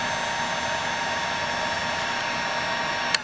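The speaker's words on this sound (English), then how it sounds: "You might want to use your heat gun again so you don't tear any wires" A heat gun blows a steady, even hiss of hot air while warming the screen adhesive on an iPhone 5, close and constant throughout, with a brief click near the end and no talking.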